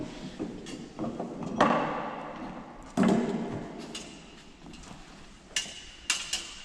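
A steel rivet on a whisky barrel hoop is struck by hand with a hammer, giving a few sharp metallic knocks with quieter taps between, close in a workshop.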